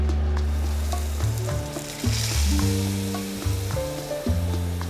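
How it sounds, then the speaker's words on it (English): Salmon fillet laid skin side down in hot olive oil for lemon butter salmon, giving a loud, steady sizzle and crackle that continues without pause, close up and with no voices. "And now we're gonna put in the salmon skin first."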